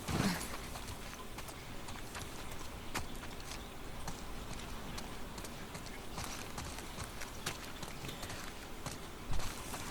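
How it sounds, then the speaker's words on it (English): Horse hooves clop steadily while riding in The Last of Us Part 2, a continuous rhythmic patter under a dense game soundscape, with a slightly louder thud near the end. "We should not be on a horse, bro."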